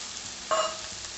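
Potato and egg poriyal stirred in a hot frying pan: a single short scrape-and-sizzle burst of the utensil against the pan rises briefly over a low, quiet background.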